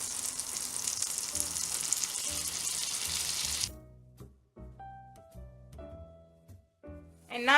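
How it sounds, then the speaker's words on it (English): All-purpose flour hits melted butter in a pan, giving a loud, even sizzle for about four seconds. It cuts off abruptly, leaving quiet scattered clinks and taps of a utensil against the pan. "So my butter is melted, and now into this we will add our all-purpose flour."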